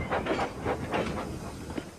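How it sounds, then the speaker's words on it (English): A steam locomotive in the Trainz railway simulator game puffs along in a rhythmic series of about eight chuffs with hissing steam, moderately loud and unaccompanied by voices. "Edward picked up steam and proudly puffed past Spencer."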